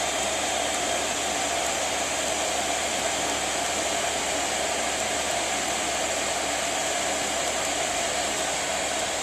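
A 3 kilowatt diesel heater blows air inside a Ford Transit campervan conversion, giving a steady, even rush of airflow that stays loud and constant throughout with no talk.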